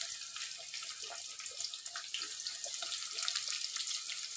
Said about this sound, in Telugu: ఇట్లా ఆనియన్స్ ఫ్రై అవుతున్నాయి కదా